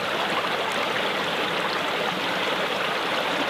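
Water in a stream runs close by in a steady, full rush with a bright, hissing texture. No voices are heard over it.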